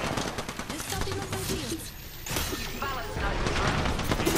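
Rapid automatic gunfire in the video game Apex Legends, dense bursts of shots running almost continuously under excited voices and game noise, briefly easing in the middle before resuming loud.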